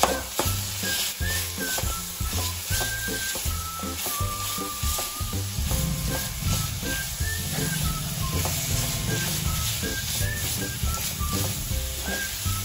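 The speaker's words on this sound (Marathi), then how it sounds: "आता हे पुन्हा मिक्स करून घेते" Melted jaggery and khoa being stirred in a pan as filling for fried modak, a steady sizzle and scrape throughout with soft music in the background.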